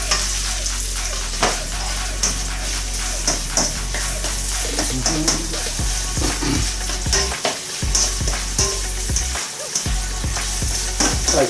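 Meat for Amatriciana sauce fries crisply in a pan with steady close sizzling, broken by repeated stirring and scraping taps throughout.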